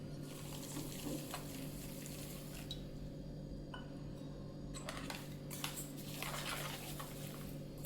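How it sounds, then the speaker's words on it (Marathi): Half a glass of water pours into a mixed bowl of seeds seasoned with spices for seed crackers, giving a steady close wash of liquid with a faint clink of dishware and no voices. "आणि याच्यात अर्धा ग्लास पाणी टाकूयात."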